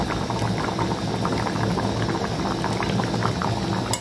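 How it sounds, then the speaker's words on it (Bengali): Moong dal with bottle gourd bubbles steadily in a pot on the stove, a continuous close boil with soft popping and rolling liquid throughout. "এবার আমি ডালটা একটু হালকা ফুটিয়ে নামিয়ে নেব"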